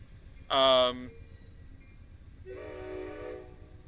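A train passes in the Trainz railway simulator, giving a loud, clear horn blast followed by a second, softer, longer horn call over a low, steady rolling rumble.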